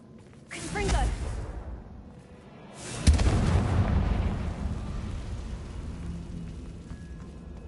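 Confringo fire-blast spell cast in the video game Hogwarts Legacy: two loud, sudden blasts with long rumbling, crackling tails fading off, the second one heavier and sustained.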